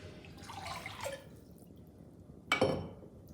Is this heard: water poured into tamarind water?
yes